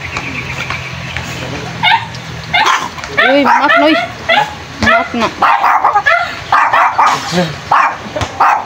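Dogs barking and yipping repeatedly in a close, busy burst, with people talking over them throughout.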